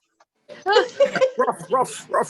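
A human voice imitates a dog, giving a quick run of several rough, yappy barks up close during an online Shabbat evening service.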